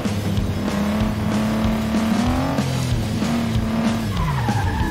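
A racing car engine in the video game FlatOut 2 roars steadily while tires squeal and skid in long, shifting tones, loud and close throughout.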